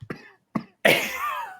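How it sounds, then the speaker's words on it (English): A man's cough in a scripted ship drama, with two short harsh coughs and then a longer, rougher hacking fit, close and fairly loud with no other sound. "He coughs up blood."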